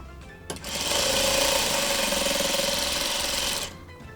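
A sewing machine runs steadily at high speed for about three seconds, sewing a quilt seam of Courthouse Steps blocks with print fabric. It starts abruptly, hums loud and close, then stops, with no talking.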